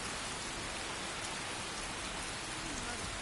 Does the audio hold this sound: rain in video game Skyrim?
yes